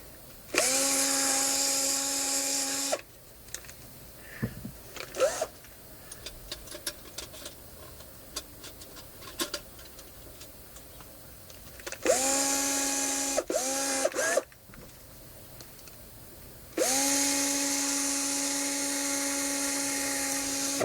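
A power drill bores a hole for a side-mounted cab camera mount in a vehicle, whining loudly in three sustained bursts with steady pitch, separated by quieter stretches of small clicks and handling noises.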